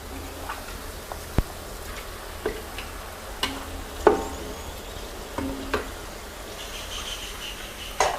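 Steady, quiet sizzling of battered bananas frying in oil, with occasional soft clicks and taps from a utensil.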